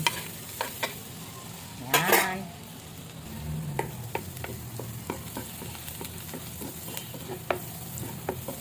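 Garlic butter fries in a pan, a steady close sizzle broken by sharp scraping stirs and utensil taps, with a louder burst of stirring early on.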